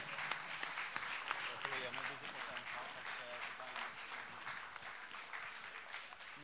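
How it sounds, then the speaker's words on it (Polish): Audience at a music event applauds a singer named Nina, moderately loud continuous clapping with a voice or two talking over it. "Duże brawa, moi drodzy"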